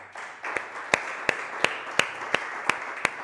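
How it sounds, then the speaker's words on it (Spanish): A church congregation claps in a steady, evenly spaced rhythm, about eight sharp claps over a soft crowd murmur, close and fairly loud. "Dale un fuerte aplauso a Cristo Jesús."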